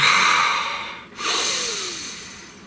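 Wim Hof style breathwork heard up close: a long, forceful inhale through the nose, a brief catch, then a drawn-out, gradually fading exhale, loud and breathy with no talk.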